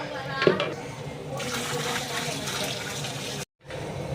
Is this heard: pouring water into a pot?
yes